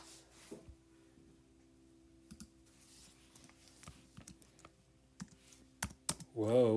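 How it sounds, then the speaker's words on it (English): Computer keyboard typing heard as irregular bursts of quiet clicks and clacks, with a brief voice-like sound at the very end. "Typing."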